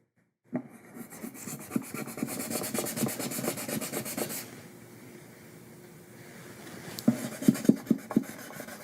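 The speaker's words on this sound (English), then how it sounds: "now I'm going to use some micro mesh that I got from LMI and get it back up to a gloss" A guitar's center seam repair is hand-sanded with LMI micro mesh, making rapid rhythmic scratchy rubbing strokes close up, then a quieter stretch before another burst of brisk strokes.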